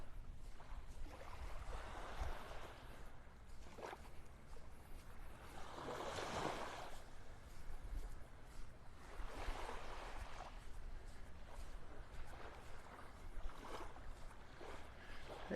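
Ocean waves wash onto a beach in North Naples, Florida, in a steady broad hiss, with louder swells surging and receding every few seconds against a constant low rumble and no talking.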